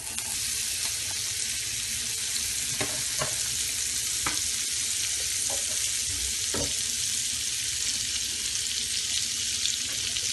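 Two tablespoons of butter sizzle in a hot pan at the start of a sauce for a chicken sizzler, a close, steady frying hiss with a few scattered clicks and taps of utensils throughout.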